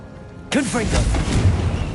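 A sudden fiery blast from the Confringo spell in Hogwarts Legacy hits loud, then decays into a crackling, rumbling burst, with a short spoken word right at the onset.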